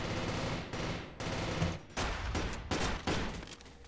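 Shotgun blasts in a Team Fortress 2 3v3 tournament match: a quick series of sharp, punchy shots at uneven intervals, close and loud, with chaotic game noise between them.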